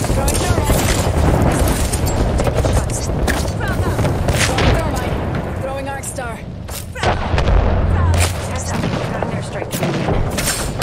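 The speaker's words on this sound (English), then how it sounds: "Start shooting at them. 30 grenades" Grenade explosions and gunfire in the Apex Legends video game, with dense, loud booms and rapid shots rolling almost continuously and voices heard amid the battle.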